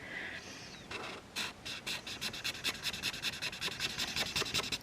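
Chisel tip of a yellow alcohol marker rubbed back and forth over paper to fill a patch, a close, soft scratchy rasp in a quickening rhythm of short strokes.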